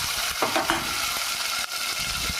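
Onion, tomato and potato pieces with mustard seeds, cumin and curry leaves sizzle in a pan as a spoon turns them, a steady frying hiss broken by a couple of stirring scrapes; no voices.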